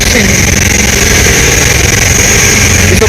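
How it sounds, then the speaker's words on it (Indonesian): A ship's engine roars loudly and continuously inside the engine room of a passenger vessel, a dense, steady mechanical drone close by with no pauses or speech. "Makanya di sini bunyi mesinnya itu keras sekali"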